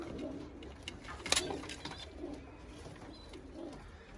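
Domestic pigeons coo softly in a loft, giving several low, rolling coos spaced a second or two apart, with a brief sharp clatter of wings or movement.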